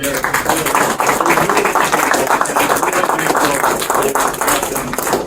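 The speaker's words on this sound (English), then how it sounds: "give them a round of applause" A crowd at a campaign kickoff speech in a restaurant claps loudly and continuously, a close, busy patter of many hands with voices mixed into the noise.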